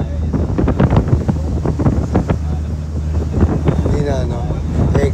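Strong wind buffets the microphone outdoors, producing a constant low roaring rumble with gusty bursts, while people talk over it throughout.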